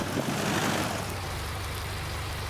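A tractor engine in the farming game Farming Simulator 19 holds a steady, low, rumbling drone throughout, fairly loud and unbroken, with no voices over it.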